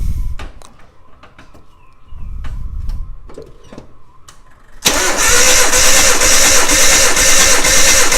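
A Nissan Hardbody engine cranks steadily and loudly under a compression test, a continuous whirring crank that begins abruptly after a few seconds of faint clicks and shop noise and runs to the end.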